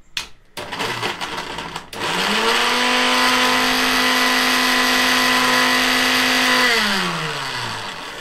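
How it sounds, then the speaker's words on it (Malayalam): An electric mixer grinder blends banana pieces for a milkshake, spinning up after a couple of seconds of handling clatter into a loud, steady motor whine that holds for several seconds before winding down at the end. "അപ്പൊ നമുക്ക് ആദ്യം പഴം എടുത്തിട്ട് മിക്സിയിലിട്ട് അടിക്കാം"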